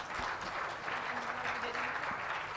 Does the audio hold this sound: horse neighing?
no